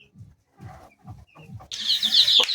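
Native chickens clucking in short soft bursts spaced through a quiet pen, then a sudden burst of high, loud chick peeping and scuffling as the chicks are lifted out, with no talking.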